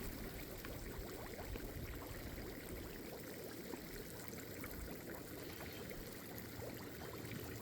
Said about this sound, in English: this gas that's bubbling up here